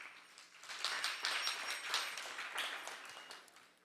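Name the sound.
audience applause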